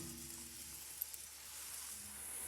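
A plantain crepe sizzles softly in a pan, a faint, steady hiss of cooking batter with a low hum underneath and a couple of small ticks, no voices.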